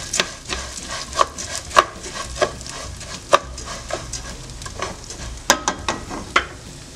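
Rice frying in a pan with a steady sizzle, broken by regular sharp scrapes and clinks of a spoon stirring it, close by with no talk.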